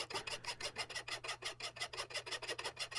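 Hand file rasping along the edge of a damaged steel axe blade, about eighteen quick, even back-and-forth strokes at a steady rhythm, close and clear over a low background hum, with no voices.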